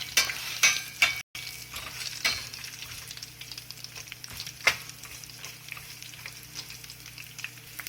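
Finely chopped garlic, four or five cloves, sizzles steadily in a pan while being stirred, with a few clear scraping clicks from the spoon standing out; a brief dropout interrupts the sound early on, and no one speaks.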